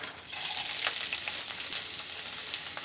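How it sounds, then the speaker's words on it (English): Carrots and red onions sizzle steadily in a hot pan, a bright continuous frying hiss with occasional soft stirring scrapes, close and alone. "So now I'm going to saute some carrots and some red onions for this rice."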